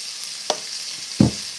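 Food seasoned with adobo and onion powder fries in a pan under a soft steady sizzle, broken by two quick knocks of a utensil stirring against the pan.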